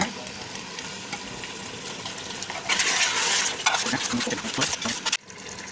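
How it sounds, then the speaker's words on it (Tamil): Chicken pieces are stirred into biryani masala in a pot, giving a steady wet scraping and clatter against the metal that grows louder and busier midway before easing off. "சிக்கன் பீஸ் எடுத்து அதில் போட்டுருவோம். நல்லா போட்டு ஒரு வாட்டி நல்லா கிண்டுங்க."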